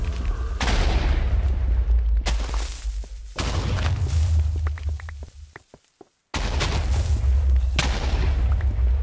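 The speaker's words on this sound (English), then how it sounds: "There's so many bombs." Many bombs explode in a video game, big roaring blasts with sharp onsets and long noisy decays, a few quick pops between them and a short silence before a final loud burst.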